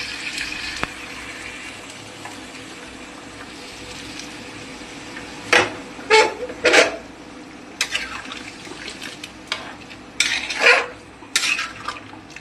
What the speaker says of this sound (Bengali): এই গরম জলটা আমি ঢেলে দেবো।